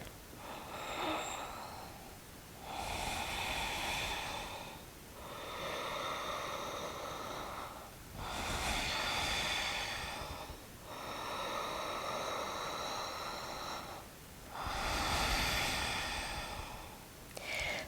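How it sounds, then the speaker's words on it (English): Slow, deep yoga breaths come close and clear, with long audible inhales and exhales alternating in an even rhythm and short quiet pauses between them. "Let's take 3 rounds of breath here."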